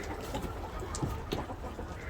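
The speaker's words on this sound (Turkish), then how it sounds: "Tavuklara yem atıldı ya. Ben de istiyorum yem diyerekten böyle sağa sola koşturuyor." Chickens and other farmyard fowl cluck in short, scattered bursts as they scurry around after thrown feed, the calls soft and fairly close over a steady outdoor background with no talking.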